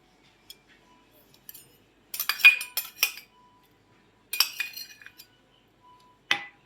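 Spoon clinking against a vessel while a ginger, cumin and chili spice mix is stirred into buttermilk: a few scattered bright metallic taps and short rattling clusters, close and sparse, with near silence between them.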